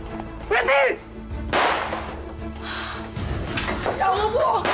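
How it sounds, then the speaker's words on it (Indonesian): A sharp, loud crack rings out once amid tense voices, followed by more muffled bangs and shouting in the background. "Suara apaan tuh? Tembakan!"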